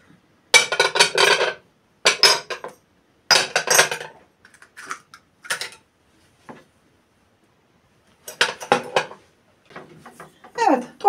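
Dishes, pots and cutlery are cleared off a table after pastry dough is made, giving repeated bursts of clattering and clinking in separate loud clusters with short quiet gaps between them.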